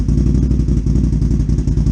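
Motorcycle fitted with an HMF Performance exhaust, rumbling steadily at idle with a loud, deep, continuous pulsing throb close by and no talking over it.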